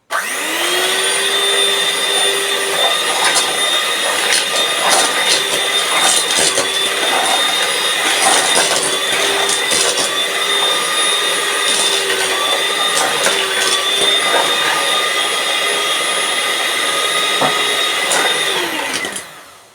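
An electric mixer whirs steadily on low speed through muffin batter with sugar and brown sugar, a continuous loud motor whine with faint rhythmic beater clatter, alone with no talk.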